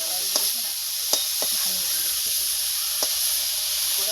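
Greens stir-fry with salt in a wok, giving a steady sizzling hiss broken by a few sharp scraping stirs of the utensil against the pan, close and with no talk.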